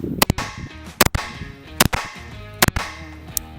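Rapid pistol shots from a Glock fitted with a Fusion XP Pro ported compensator: about five sharp, loud, close cracks spaced under a second apart, with faint ringing between them.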